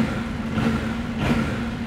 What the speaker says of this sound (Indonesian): Waktu digeber agak garing-garing dikit tapi padat ya.